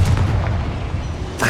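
The Confringo explosive spell goes off in Hogwarts Legacy as a loud, booming, low blast that rumbles on briefly, with a second burst at the very end.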